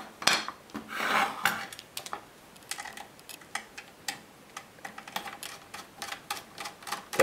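Small metallic clicks and scraping taps from a screwdriver loosening screws while removing a Cryorig H5 CPU cooler, close and fairly quiet, coming in an irregular ticking rhythm.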